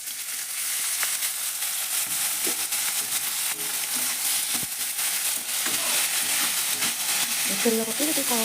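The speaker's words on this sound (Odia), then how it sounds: "ତାକୁ ତେଲରେ ଭାଜିଦେବା।" Boiled, softened banana flower fries in hot oil in a kadhai with a continuous bright sizzle and occasional stirring scrapes, nearby and steady.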